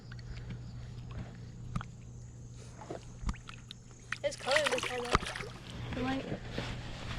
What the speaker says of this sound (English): Just need to get the fish back in the water as quickly as possible.